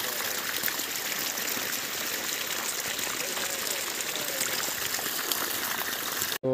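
Irrigation water streams steadily into a sorghum field, a continuous close rushing and trickling flow that holds at an even level throughout, with a short abrupt break just before the end.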